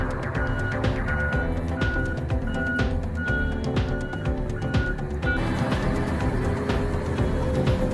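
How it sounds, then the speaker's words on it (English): Articulated dump truck used on construction and mining sites, engine rumbling steadily and loud while a high reversing alarm beeps at an even pace for several seconds before stopping. "The articulated dump truck is used both on construction sites and in mining."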